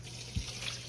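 Running tap water flows steadily and softly as food is rinsed of its dressing in a kitchen sink, with one small splash partway through.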